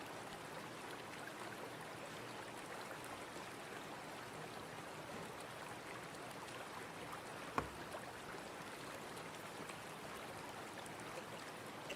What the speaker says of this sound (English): have water noises been playing this whole time?